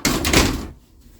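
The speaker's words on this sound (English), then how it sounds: "I'm just going to stop the door from creaking like spooky Halloween sound effects" A door creaks loudly in a long, grinding sweep that cuts off abruptly after about half a second, leaving near silence.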